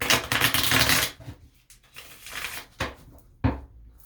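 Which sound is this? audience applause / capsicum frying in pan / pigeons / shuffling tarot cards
shuffling tarot cards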